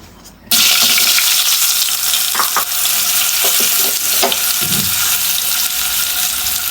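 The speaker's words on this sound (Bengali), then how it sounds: "এই তেলেই আমরা এখন আলুগুলো ভেজে নেব" Potatoes dropped into hot oil for an egg-and-potato curry, a loud sizzle bursting in suddenly and holding steady, with occasional stirring clinks and scrapes over the continuous frying hiss.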